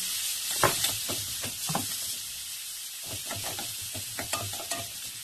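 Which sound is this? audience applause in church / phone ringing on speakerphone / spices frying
spices frying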